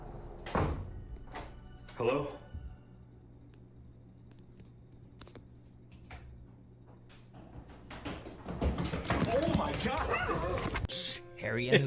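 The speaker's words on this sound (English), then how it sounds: "hear a door in the basement repeatedly opening and slamming shut" A basement door slamming shut several times, sharp thuds spaced out over a quiet hum, followed by a dog barking and whimpering and people talking over it.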